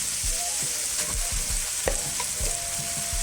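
Day-old rice tossed into a hot pan for hotdog fried rice sizzles and crackles steadily, with occasional scraping and stirring knocks close by and no talking.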